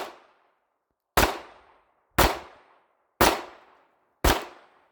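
Four pistol shots on a shooting range, spaced about a second apart, each a sharp loud crack with a short decaying tail, alone after a quiet start.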